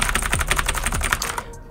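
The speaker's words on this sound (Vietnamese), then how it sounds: "Tiếng bàn phím cơ là cực kỳ đanh." Loud, sharp clicks from fast typing on a budget clicky mechanical keyboard with Era switches, a dense even stream of keystrokes close up that stops abruptly near the end.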